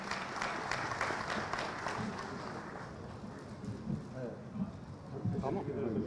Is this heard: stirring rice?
no